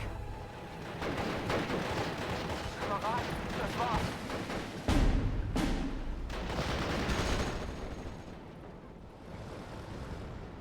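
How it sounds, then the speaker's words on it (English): Artillery batteries firing in the World War II strategy game Steel Division, a dense, sustained barrage of booming shots and rumbling impacts rolling on for several seconds, loud and close, with a sharper blast near the middle. "we're gonna target the artillery over there. Ready to fire."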